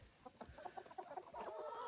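A Black Copper Marans rooster and a flock of chickens cluck close by outdoors on a farm, with a quick run of short, rhythmic clucks and calls over a couple of seconds.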